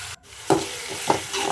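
Onions frying in oil with cumin seeds in a kadai, a steady close sizzle with a few louder stirring scrapes and a brief drop near the start.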